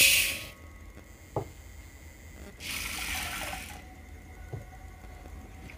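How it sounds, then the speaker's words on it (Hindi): Tap water runs over a cup of toor dal (pigeon pea lentils) being rinsed in a kitchen. The stream comes in loud bursts, starting and stopping, with a steady hiss between them. "तो पहले हम दाल को धो लेंगे।"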